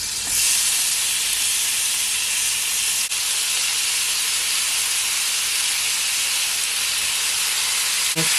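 Beef drops into a pot of heated oil over high heat, producing a loud, continuous hissing sizzle that holds steady throughout, with a brief clank near the end.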